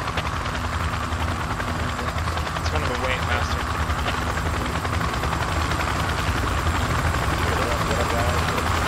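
Helicopter in a video game, a constant loud rotor-and-engine roar that lasts the whole time, with players talking over it.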